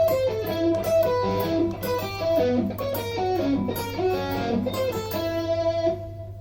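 Guitar picking a fast cycle of arpeggios, a rapid stream of bright notes over a steady low hum, fairly quiet and close, with no voices.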